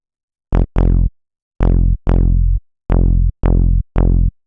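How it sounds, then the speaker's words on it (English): Trance-style bass synth built from a sawtooth wave through a low-pass filter with LFO movement, playing seven punchy, evenly spaced notes with sharp attacks and quickly closing filter tails, loud and alone. "You can tell it's a saw wave, but it's like if you just use a bare saw wave,"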